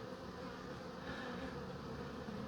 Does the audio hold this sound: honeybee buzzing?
yes